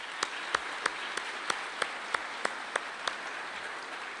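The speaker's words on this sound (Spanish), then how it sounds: "quiero que recibamos con un gran aplauso a esos estudiantes extranjeros" An audience at a university business-school orientation applauds to welcome foreign students, with steady crowd clapping under a series of loud, evenly spaced close claps, roughly three per second.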